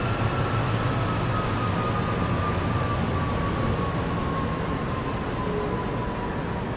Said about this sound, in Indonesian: Kereta barang masuk di jalur 4